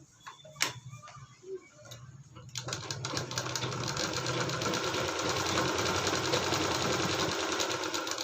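A sewing machine starts after a few faint handling clicks and then runs steadily, a fast continuous mechanical whirr while stitching the sides of a sewing machine cover made from waste fabric, close and moderately loud.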